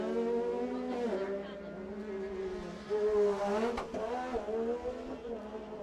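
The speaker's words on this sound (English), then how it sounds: "Something about how the rev limiter just hits right as they go over the jump." Side-by-side UTV engines race through a turn and over a jump at Durhamtown, a loud sustained high-pitched buzz with a sharp rev-limiter stutter near the crest, carrying steadily for several seconds.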